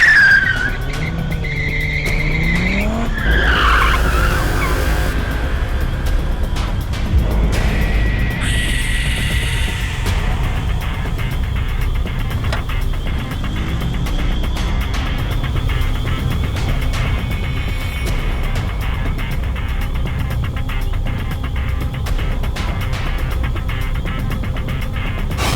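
A car in a Hindi horror drama scene accelerates hard with skidding, squealing tyres, then its engine roars steadily and close at full volume as it drives on, with no talk.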